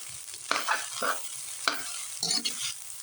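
Garlic fried rice, sinangag, is stirred in a pan with a spatula. A faint sizzle runs underneath several distinct scraping strokes, each lasting about a second, with no talking.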